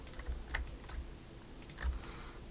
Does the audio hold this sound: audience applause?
no